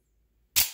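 A pistol magazine is seated into the grip with one sharp, close metallic click-clack after a moment of near silence, then a brief fading rattle.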